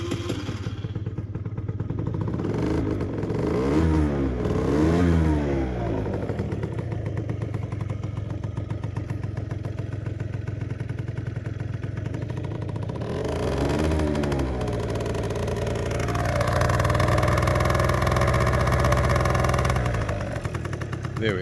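A cold Aprilia SR50R 50cc scooter engine sputters to life and settles into a buzzing idle, with a few rising revs and some mechanical clatter, recorded up close and loud throughout.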